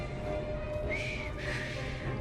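A character whistles in the video game Assassin's Creed Syndicate: a short, quiet rising-and-falling whistle over a steady low background hum, with no talking.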